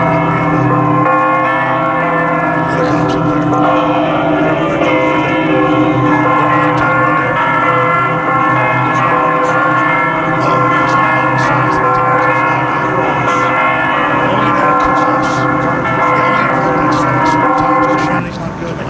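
Church bells ring during a moment of silence marking 50 years since the JFK assassination, with loud, overlapping sustained tones blending into a continuous wash.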